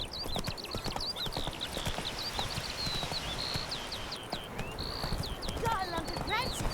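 Roach the horse trots in The Witcher 3, hooves clip-clopping in a steady, brisk rhythm throughout, with chirping birds and outdoor ambience layered over the footfalls.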